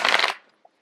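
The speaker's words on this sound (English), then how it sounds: "I'm getting the card shuffled out here" Tarot cards riffled in a brief close burst of papery shuffling that fades quickly, with a tiny tap afterward.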